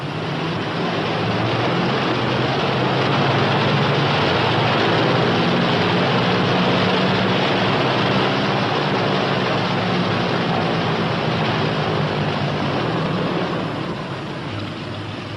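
Piston engines of a P-61 Black Widow night fighter idle on the ground after landing, a steady, loud, broadband drone that holds evenly for most of the stretch before easing slightly near the end, with no voices.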